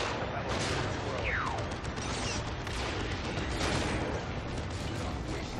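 A grenade blast and gunfire in the Dawn of War 2 video game, a dense, noisy battle wash of crackling shots and booms with a brief whistling sweep early on.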